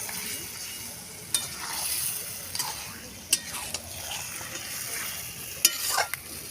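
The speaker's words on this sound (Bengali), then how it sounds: "আলুগুলো দিয়ে আমি ভালো করে কষিয়ে নেব।" Potatoes for aloo dum are fried and turned in a pan, a soft continuous sizzle broken by sharp utensil scrapes and clinks at irregular intervals, fairly close but quiet overall.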